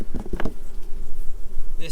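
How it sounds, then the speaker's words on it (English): A low, steady buzz of honey bees in a hive hums throughout, close by, with a few short clunks and knocks near the start. "there's still a fair few bees in there"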